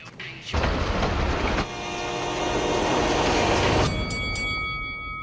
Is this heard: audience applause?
no